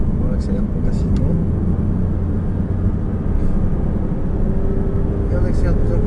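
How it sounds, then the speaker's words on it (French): A Porsche Cayman S engine roars loud and steady while accelerating hard on a race circuit, a constant rumbling drone with no break. "on accélère de plus en plus fort"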